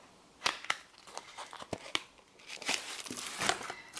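Makeup Revolution eyeshadow palette being unwrapped from its plastic packaging, close, faint crinkling and sharp rustling snaps in irregular bursts.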